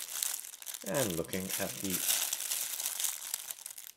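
A protective plastic bag around AVANTEK 8x22 compact folding binoculars crinkles close and fairly loud in a continuous rustle, with someone talking over the first part.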